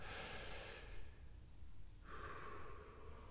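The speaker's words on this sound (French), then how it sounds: "Et ensuite, on inspire à nouveau." A slow, steady exhale of breath followed by a fresh inhale, soft and close with an airy hiss, during a relaxation breathing exercise; no talk.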